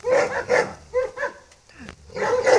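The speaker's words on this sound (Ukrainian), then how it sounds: "Собака умная, умнейшая." Small dog yipping and barking in short bursts on a trampoline outdoors on Khortytsia island in Zaporizhzhia, several close, loud yaps spaced across the moment with a brief pause.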